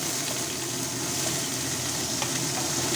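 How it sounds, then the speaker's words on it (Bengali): Chopped onion and green chilli hitting hot refined oil in a pan, giving a steady, dense sizzle of frying that carries on evenly throughout with no talking. "এবারে আমি এর মধ্যে দিয়ে দিচ্ছি পেঁয়াজ কুচি আর লঙ্কা কুচি।"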